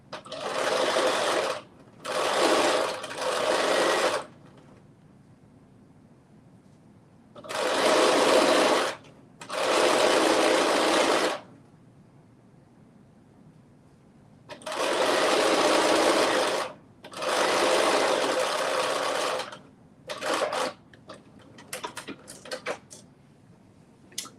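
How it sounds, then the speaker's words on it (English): A sewing machine runs a basting stitch in several separate bursts of steady, fast whirring, each lasting one to two seconds, with quiet pauses between and a few short stutters near the end. "I'm just doing a basting stitch, 1/4 inch or less to the edge"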